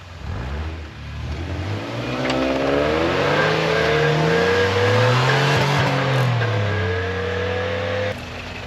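A Toyota 4Runner drives through snow, its engine rising from a low rumble into a loud, sustained rev with climbing pitch as it accelerates nearby, then cutting off abruptly near the end.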